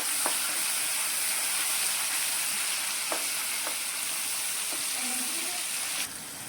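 Finely chopped onions sizzle steadily in a hot pan for a Gujarati wedding-style mixed vegetable dish. A constant loud frying hiss runs throughout, with a few faint spoon taps and stirring clinks.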